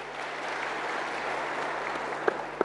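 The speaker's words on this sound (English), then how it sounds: "Give yourselves a round of applause, guys." University of Nairobi students at a climate action town hall applaud in a steady, even wash of clapping heard at a moderate distance, with a couple of sharper individual claps near the end.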